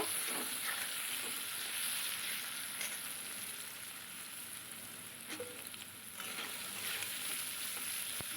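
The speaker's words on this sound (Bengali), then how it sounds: "এবার নুন হলুদ দিয়ে দিলাম আর একটু নেড়ে নেব" Potatoes fry in oil with salt and turmeric for a ridge gourd curry, giving a steady, dense sizzle with occasional soft scraping as they are stirred, close and continuous without talk.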